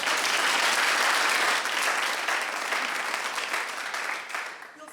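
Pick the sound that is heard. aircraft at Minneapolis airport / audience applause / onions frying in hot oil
audience applause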